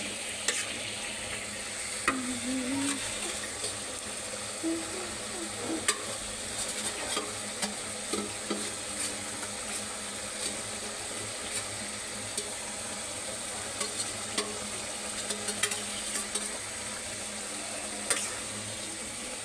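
Pabda fish sizzling lightly in hot oil in a pan, a continuous close fry with occasional scrapes and clicks of a utensil stirring the pieces.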